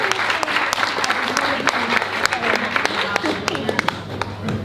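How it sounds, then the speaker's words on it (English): An audience gives a round of applause after a volunteer's exploding custard demonstration, a dense burst of clapping filling the room for several seconds with crowd noise and a voice underneath. "Round of applause for that."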